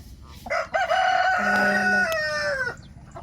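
A rooster crows loudly and close by on a backyard chicken farm, one long drawn-out cock-a-doodle-doo, with a few clucks before it.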